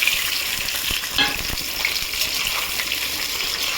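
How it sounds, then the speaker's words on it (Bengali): Onions frying in a pot for a mutton dish give a steady, close, continuous sizzle with soft crackle, with a brief stir near the middle and no voices. "পেঁয়াজটা ভেজে ফিরছি বন্ধুরা"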